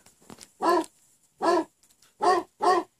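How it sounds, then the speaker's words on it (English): Dog barking sample used as a melody in a music production session, four short, clear, evenly pitched barks with brief pauses between them, close and isolated against near silence. "I'm going to start off with a barking sound."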